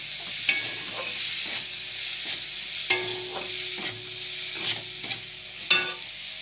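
Chopped tomato fries in a pan while a spoon stirs it, with several sharp clacks and scrapes against the metal over a low, quiet sizzle. The stirring comes in irregular bursts, close by, with no talk.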